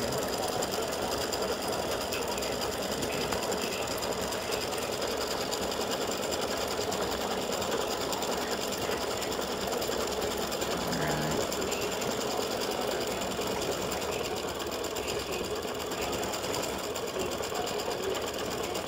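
A home embroidery machine stitches out a freestanding lace Valentine pendant on a hoop, producing a steady, continuous fast-paced mechanical whirring hum that runs unbroken throughout at a constant level, with no talking.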